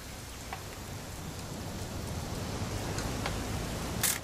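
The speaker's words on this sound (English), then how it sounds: "It's gonna rain the whole weekend, isn't it?" Steady rain hiss fills a scene in the video game What Remains of Edith Finch, a dense wash of drops that grows slightly louder, with a few faint taps and no talk.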